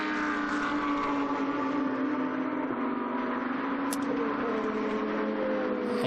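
GT2 race cars on the Dijon circuit, a KTM X-Bow among them, with a sustained loud engine drone whose pitch sweeps gradually, distant and steady, with no talk heard.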